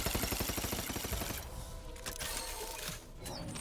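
Rapid bursts of gunfire in the game The Outer Worlds hit a cluster of eggs, loud and closely spaced at first, then thinning into scattered shots and clatter.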